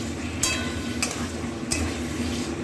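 Boiled elephant foot yam stir-fried with spices in a pan: a low, steady sizzle runs throughout, cut by three sharp metallic clinks of a spatula against the pan, close and clear with no talking.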